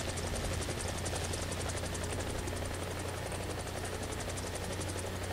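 Mi-24 attack helicopter in War Thunder during a ground attack: a loud, continuous rotor and engine drone with a rapid pulsing beat, steady throughout with no talk.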